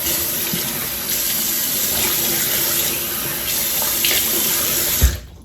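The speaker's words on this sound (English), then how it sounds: "Let me get the water going." Water runs steadily from a sink tap in a bathroom during a morning skincare routine, a loud continuous hiss that cuts off abruptly near the end.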